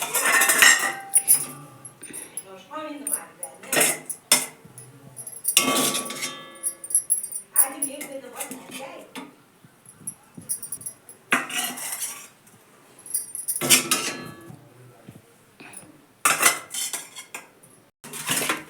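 Metal utensils clink and scrape against dishes as cooked macaroni pasta is served onto a thali plate, in intermittent bursts of clatter separated by short quiet gaps.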